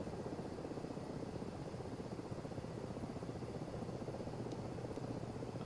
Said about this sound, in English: there's the MI8. Wondered where that was. It's taxiing